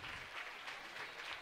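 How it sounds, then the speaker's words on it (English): A crowd at a district high school basketball game applauds, a continuous wash of clapping with slight surges, moderately faint and heard from a distance across the gym. "Do a big round of applause"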